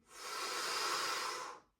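A single sharp, breathy exhale during a bodyflex breathing exercise, close and fairly loud, a steady airy rush lasting under two seconds with no talking.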